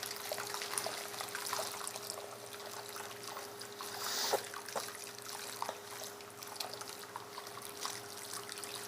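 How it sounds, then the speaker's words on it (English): Home-brew wort being poured over a spoon onto a grain bed while recirculating, a steady close trickle and splash of liquid with a faint continuous hum underneath and a few small clinks. "Now I'm just pouring the water over the spoon, just recirculating it."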